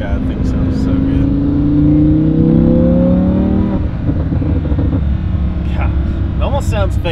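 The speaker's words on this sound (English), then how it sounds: "It almost sounds fake, the exhaust." Lamborghini Huracan exhaust revs up in rising sweeps for a few seconds, loud and close, then settles into a rougher rumble, with voices mixed in.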